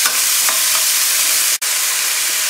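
Beef and Chinese vegetables stir-fry in a hot pan with a constant, loud close-up sizzle and hiss, broken by a couple of faint scrapes and a brief cut-out near the end.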